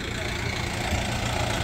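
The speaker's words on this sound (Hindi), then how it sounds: "अब तो काफी फर्क आ रहा है आवाज में, मतलब कि अब तो दूर से भी पता चल रहा है कि ट्रैक्टर आ रहा है" A Mahindra 575 XP Plus tractor engine runs steadily at a warm idle, a dense, continuous low rumble with a rough, knocking texture, loud and near, while people talk over it.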